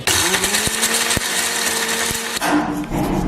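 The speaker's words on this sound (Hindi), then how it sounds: "तो अगर खुश्क है तो आप इस तरह भी ग्राइंड कर सकते हैं, फ्राई करने की ज़रूरत नहीं है।" A grinder whirs loudly through dry spices for nihari masala, a steady buzzing grind that cuts off abruptly near the end and leaves a quieter rattle.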